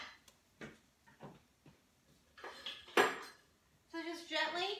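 Cauliflower steaks being turned over in a cooking pan, a run of scattered metallic clinks and scrapes of utensil against pan, with a sharper clatter near the middle and a ringing knock at the end, close and moderately loud.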